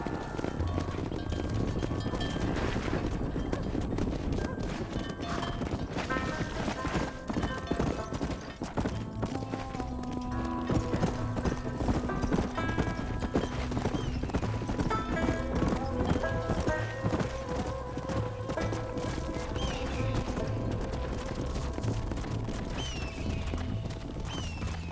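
Horse hooves in the Red Dead Redemption video game, a steady, continuous clip-clop of a riding horse with an occasional whinny, set against game music and ambient sound.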